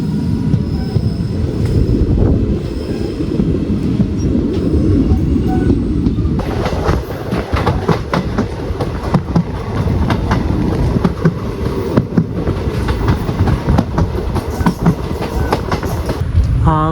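A train rolls through Kottarakkara railway station with a loud, continuous rumble. The wheels clatter in a steady rhythm, and a faint squeal rises near the end.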